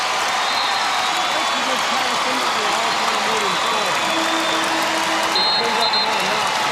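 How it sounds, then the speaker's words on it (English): Fans in a packed basketball arena at a women's college game between Kansas State and Baylor cheer and applaud steadily for a record-breaking moment, a broad continuous roar with a commentator talking over it. "every fan in this place cheering for BRITTNEY GRINER breaking the record"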